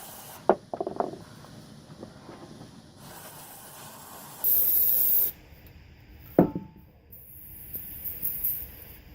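Carb cleaner sprayed onto skateboard bearings with plastic or urethane parts, heard as a steady hissing burst of a second or so amid faint rubbing and handling clicks, with a sharp knock afterward.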